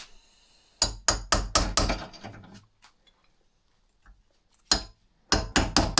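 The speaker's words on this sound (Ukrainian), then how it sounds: "Як завжди, без молотка не обійдеться." Sharp hammer blows strike in quick bursts while servicing a KTM 390 motorcycle shock absorber, five or six rapid knocks, a pause with a faint tap, then another cluster of hard, close knocks.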